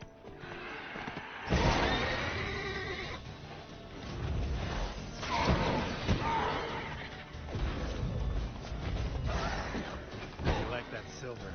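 A horse named Roach neighs and whinnies in The Witcher video game, with hoof clatter and bursts of game sound around it, close and fairly loud, while a voice talks over parts of it.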